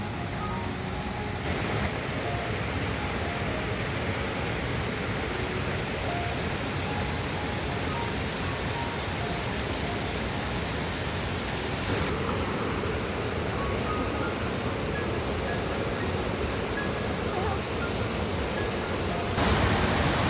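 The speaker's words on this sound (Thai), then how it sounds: "อันนี้น่าจะเป็นชั้นแรกของน้ำตกเอราวันนะครับ" The first tier of Erawan waterfall pours steadily, a broad unbroken rush of flowing water filling the scene at close range with no voices over it.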